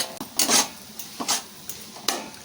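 A spoon stirs and fries a gongura mixture in a pan, giving a handful of short scraping strokes over a faint sizzle, close and moderately loud, with no voices.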